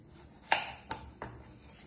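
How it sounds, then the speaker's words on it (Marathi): A knife slices through boiled potatoes for fries on a board, three distinct quiet cuts spaced a little under half a second apart, close and otherwise nearly silent. "आता याचे काप करते."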